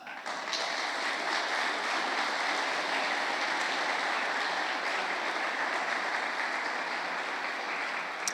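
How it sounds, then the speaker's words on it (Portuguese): Sustained crowd applause fills a church congregation, dense and steady clapping throughout with no pauses, moderately loud and close. "Aplauda o Senhor."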